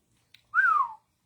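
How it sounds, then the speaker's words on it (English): A person whistles a single clear, rising-then-falling note lasting under half a second, close and alone, outdoors at night in a parking area behind a building, with a faint click just before. "I'm just whistling because it's beautiful."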